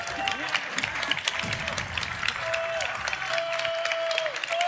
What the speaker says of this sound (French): le public, la foule qui est en délire, qui acclame Gluttony le héros